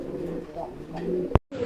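Lahori pigeons of several colour varieties coo at a farm, low soft calls running steadily close by and ending in a brief loud knock and a moment of silence.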